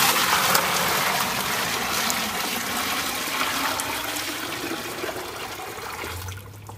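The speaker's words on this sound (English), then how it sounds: "So first I'll empty this into the fermenting bucket." Homebrewed beer wort, part of an all-grain double batch, gushes from a vessel into a fermenting bucket in a continuous loud rushing pour that tapers off and stops near the end.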